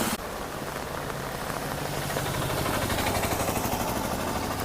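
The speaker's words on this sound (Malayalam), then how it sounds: "ഒരുപാട് നേരമായി മഴ പെയ്തു തുടങ്ങിയിട്ട്" Dense, steady hiss of heavy rain pouring down, heard from inside a full bus on a busy road, with a low engine rumble underneath, continuous throughout.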